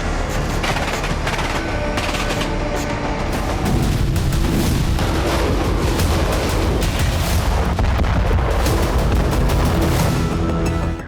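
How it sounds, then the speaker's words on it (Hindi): A night drone strike on a Russian base produces a loud, sustained blast and roar of crackling, rumbling noise that fills the whole stretch without pause, with no voices. "जिसमें रात के अंधेरे में एक तेज धमाका होता है, जिसके बाद वहां खड़ी गाड़ियों का सिक्योरिटी अलार्म बजना शुरू हो जाता है"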